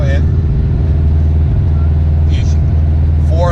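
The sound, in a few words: manual car engine running in fifth gear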